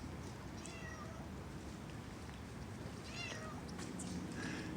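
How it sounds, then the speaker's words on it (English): Several cats meowing outdoors in Mexico City, high drawn-out meows repeating over steady street background noise, fairly faint and at a short distance. "I hear kitty cats coming."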